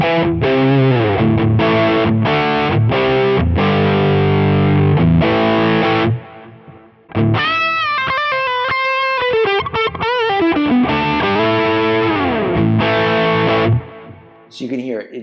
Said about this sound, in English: it's just a nice warm overdrive